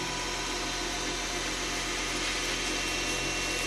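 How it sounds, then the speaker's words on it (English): A wooden finial spins on a lathe while being sanded with 400-grit sandpaper, giving a steady, unbroken motor hum and a faint, even hiss of abrasion at a constant level throughout, with no talking. "Sand the bottom of that little semi-cove. And then from both sides."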